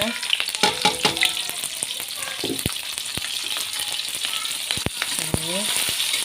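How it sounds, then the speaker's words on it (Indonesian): Spice paste of shallots and garlic sizzles loudly in a hot pan for a Betawi sour-spicy beef dish, with continuous frying crackle and sharp scraping stirs throughout. "Bumbunya kita tumis sampai benar-benar harum mewangi."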